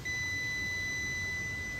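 A multimeter on its continuity setting, used to check an alternator and voltage regulator, gives one steady, unbroken high-pitched electronic beep, loud and close, lasting the whole moment with no speech.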